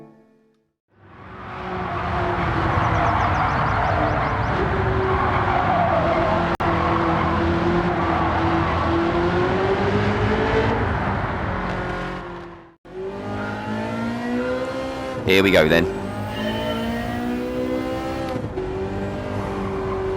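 A Ferrari on a track in Gran Turismo 7 revs hard and holds a loud, sustained engine roar, then drops off, shifts and climbs again with a brief squeal. Someone speaks briefly at the start.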